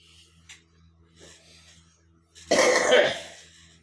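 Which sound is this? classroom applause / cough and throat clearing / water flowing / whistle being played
cough and throat clearing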